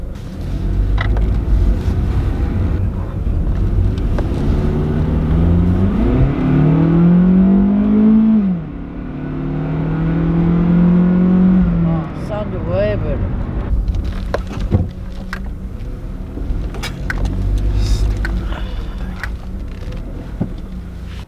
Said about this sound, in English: Let me get some high RPMs here.